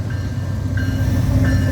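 A BNSF ES44DC heritage locomotive leading an autorack train past a trackside spot in Callao, Missouri, with a loud, steady low rumble of rolling wagons and faint high squeals.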